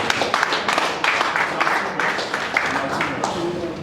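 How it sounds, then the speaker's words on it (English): Audience claps at a Nigerian media event: scattered, uneven hand claps at moderate volume that gradually thin out, with murmured voices underneath. "Please, a round of applause for the media."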